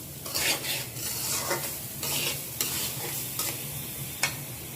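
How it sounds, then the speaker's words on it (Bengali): Polao rice for beef tehari fries in oil over low heat in a pan while a spoon stirs it steadily, giving a continuous close sizzle broken by repeated scraping strokes and a few sharp clinks against the pan. "5 মিনিট ধরে পোলার চালটা ভেজে নিতে হবে"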